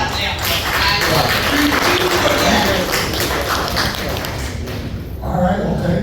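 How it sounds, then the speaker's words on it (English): Applause fills a city meeting room, a dense steady patter of clapping from the audience mixed with scattered voices, holding for several seconds before tapering slightly and swelling again near the end. "Let's clap on that."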